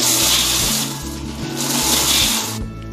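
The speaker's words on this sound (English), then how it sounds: "Now let's grind it all together until it forms in a fine powder." Cardamom, black pepper, cloves and cinnamon stick are ground to powder in a blender, a loud whirring grind that pulses in bursts of about a second, cutting off near the end.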